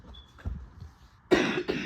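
Two harsh coughs burst out close to the mic in the last half second, loud and abrupt after a quiet stretch of faint breathy noise.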